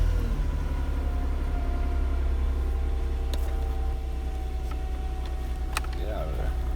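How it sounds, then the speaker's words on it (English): A car engine idles with a steady low hum. Its even drone runs throughout, with a few faint clicks and knocks on top. "Let me fire up the car"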